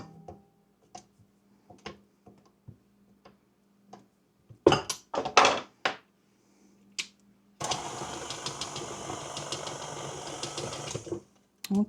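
An electric mixer whirs steadily for several seconds through chocolate peanut butter pie filling in a kitchen, preceded by scattered scraping clicks and knocks against the bowl.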